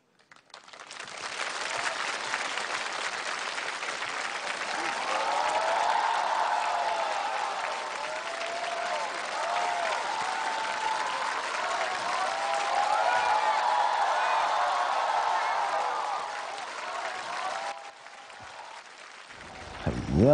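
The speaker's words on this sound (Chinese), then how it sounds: "掌声有请。" Applause from a television singing competition audience, a large crowd clapping and cheering loudly and continuously for about eighteen seconds before it cuts off.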